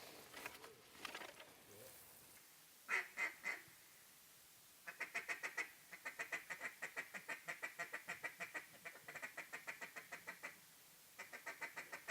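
Ducks quacking in short repeated bursts during a waterfowl hunt, some calls fast and rattling, moderately distant with quiet gaps between runs.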